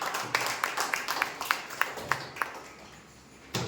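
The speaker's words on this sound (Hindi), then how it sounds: "आइए हम यीशु मसीह के लिए एक जोरदार तालियों का अर्पण देंगे।" Scattered handclaps ring out in a Sunday church service, a handful of sharp, separate claps in loose rhythm, then a pause before one last clap.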